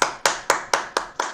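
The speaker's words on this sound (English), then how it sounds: "Guys, let's unmute and give her a rocking applause." Handclaps from an online Toastmasters club meeting, six sharp, evenly spaced claps from one close pair of hands, clear and isolated with no talk.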